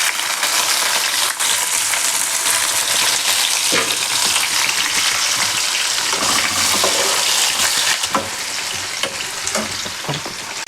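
Onions fry in hot oil with cardamom, cinnamon and other whole spices, a loud, continuous close sizzle that runs throughout with occasional stirring clatter and spatter, no voices.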